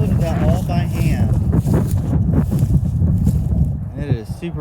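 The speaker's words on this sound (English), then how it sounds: "It is super windy up here today" Strong wind buffets the microphone outdoors at a compost site, a steady low rumble running loud throughout while a person talks over it.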